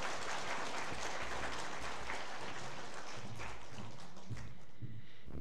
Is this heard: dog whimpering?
no